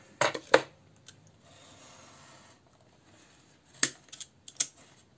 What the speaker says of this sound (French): Bon, déjà je vais couper là autour.